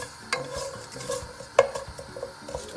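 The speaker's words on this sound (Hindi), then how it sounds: "इसमें ये थोड़ी सी राई डाल दूंगा और इसको मैं थोड़ा वेट करूंगा, इसको हल्का सा फ्राई करें" Mustard seeds fry in hot oil for a Sindhi karhi, with a quiet hiss and a few sharp isolated pops and crackles close by.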